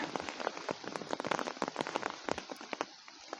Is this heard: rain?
yes